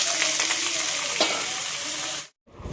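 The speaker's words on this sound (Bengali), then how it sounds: "এই ফুলকপি আলু পটল সব একসাথে ভাজলাম" Cauliflower, potato and pointed gourd fry together in a wok with a loud, continuous sizzle and occasional stirring scrapes, then cut off abruptly near the end.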